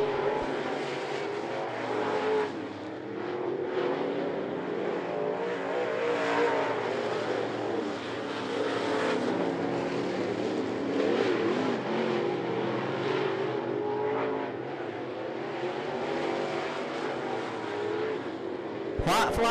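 Race cars roar continuously on the I-75 Raceway oval during an eight-lap heat race, a steady distant engine drone with rising and fading passes under an announcer's commentary.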